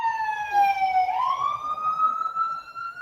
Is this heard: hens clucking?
no